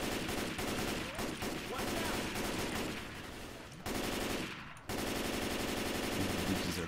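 Dense, rapid automatic gunfire from the video game Left 4 Dead 2 fills the clip, loud and near, with a brief drop before the firing resumes.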